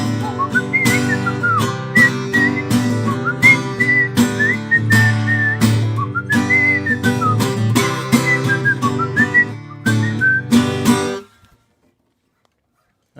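A person whistles a lilting tune over a steady backing with strong rhythmic hits, the clear melody rising and falling for about eleven seconds before ending abruptly in silence.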